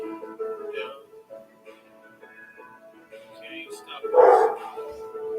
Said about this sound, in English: Oh, that's probably my dog.